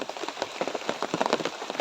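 Rain pattering steadily on a surface nearby, a dense patter of drops with no talking.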